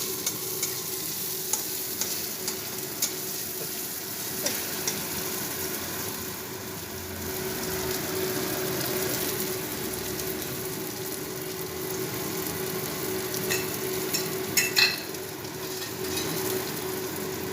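About a tablespoon of chopped onion fries in a tablespoon of oil with a continuous close sizzle, while a utensil scrapes and stirs the pan now and then. No one speaks.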